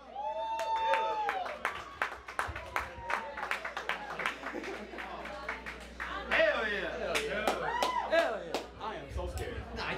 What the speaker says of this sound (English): I want you to give a round of applause for my man,